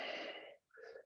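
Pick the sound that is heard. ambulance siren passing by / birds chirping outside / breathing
breathing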